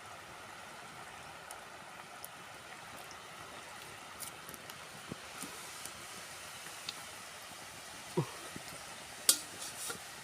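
Rice murukku frying in hot oil in a village outdoor kitchen, a steady soft sizzle and bubbling that runs throughout, with a few faint clicks and light stirring knocks near the end.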